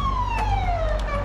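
A police car siren wails loud and close in a single long, falling tone over a low rumble of traffic.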